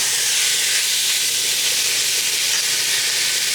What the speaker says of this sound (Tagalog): Pwede na natin ilagay yung pork belly.